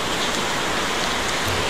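Steady monsoon rain pours down with water running across a flooding road, a dense, even hiss filling the whole stretch at close range with no voices.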